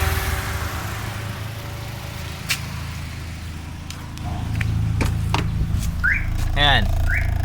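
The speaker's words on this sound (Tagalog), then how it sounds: "Na-trigger ngayon yung ating radiator fan." A car radiator fan switched on by its thermoswitch at normal operating temperature whirs steadily under an engine hum, with a few clicks and a whistle-like chirp near the end.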